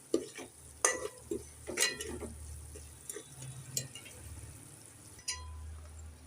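Spices including coriander powder being stirred together in a pan for gongura biryani, with quiet scraping and soft sizzling, punctuated by several sharp clinks of a spoon against the pan and a low hum underneath.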